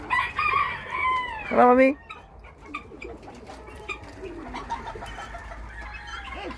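Chickens on a farm: a loud, close rooster crow rises and breaks off, followed by scattered softer clucks and bird calls, with a person speaking briefly near the start.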